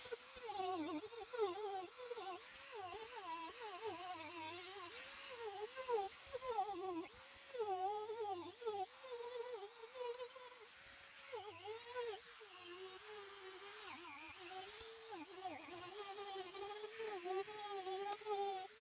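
An electric sander whines steadily on plastic trim from a BMW 3 Series E90 dashboard, its pitch wavering as it bears down in short passes, close and alone throughout.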